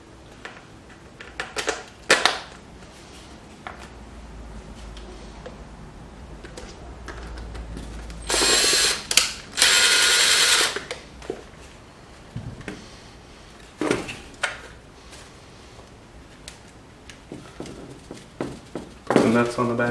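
Screws and nuts being tightened by hand to fasten an Annihilator stock attachment onto a rifle, heard as scattered sharp clicks and scraping bursts with a louder rattling stretch partway through, with speech around the work.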